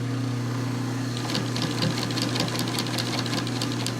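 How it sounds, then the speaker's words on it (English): A Pfaff sewing machine driven by a clutch motor runs with a steady low motor hum and a rapid rhythmic needle clatter that picks up partway through, close and continuous. "Look at the control on that clutch motor."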